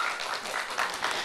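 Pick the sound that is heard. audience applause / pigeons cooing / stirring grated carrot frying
audience applause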